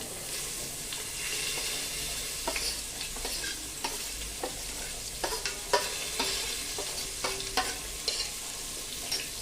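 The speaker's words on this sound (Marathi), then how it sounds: "हा बारीक चिरलेला कांदा छान मस्तपैकी सोनेरी रंगावरती परतून घ्यायचा आहे" Finely chopped onion sautéing in a kadhai with curry leaves, a steady close sizzle broken by frequent scraping stirs of a spoon against the pan, with no one speaking.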